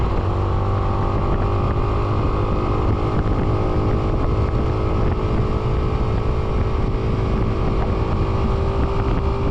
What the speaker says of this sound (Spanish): la moto no le cuesta trabajo llegar a los 100 km por hora